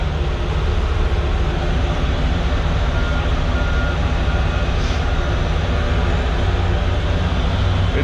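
A slow bulldozer pushes a loaded trash trailer of about 65,000 pounds, its engine a loud continuous rumble with faint reversing beeps.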